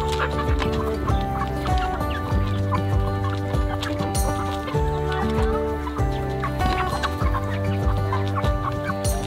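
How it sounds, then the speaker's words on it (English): Cochin chickens, including a white or splash bird, clucking close and loud in a busy flock, with overlapping repeated clucks and calls throughout. "I think this is our white or splash Cochin"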